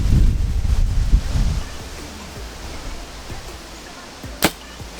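An arrow from an archery bow shot at 50 yards in high wind, a sharp brief impact cracking through heavy wind buffeting on the microphone that eases after the first second.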